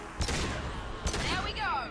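Heavy weapon gunfire in the Mass Effect 2 video game, two loud booming blasts about a second apart followed by whining, sweeping energy tones, with some background noise beneath.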